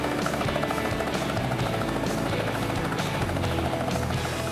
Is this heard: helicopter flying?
yes